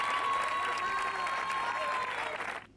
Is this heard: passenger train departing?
no